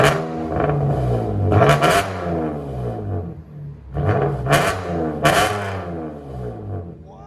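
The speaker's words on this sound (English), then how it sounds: "Sounds like a DYNOMAX race bullets, baby. Never disappoint. Give it gas." A Chevy Camaro with a 3.6L V6 and DynoMax Race Bullet exhaust revs hard in two rising-and-falling bursts. The engine is loud and close, with a deep raspy roar that settles back to idle between the revs.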